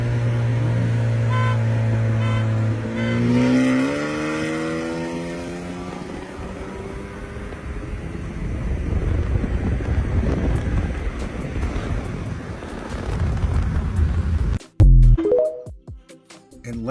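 A tuned 2022-24 Hyundai Elantra N with a stage 2 ECU tune, around 350 horsepower, dual-clutch gearbox and an aftermarket intake, revs hard through rising gear pulls under heavy wind rush, ending in abrupt loud thumps.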